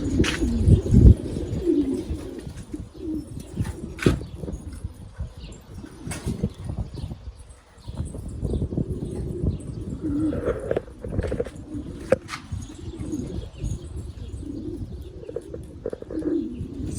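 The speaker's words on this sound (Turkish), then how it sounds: "Kuşlarımız burada." Pigeons coo repeatedly nearby in a low, throaty rhythm, with occasional chirps, scuffs and wing flutters around them.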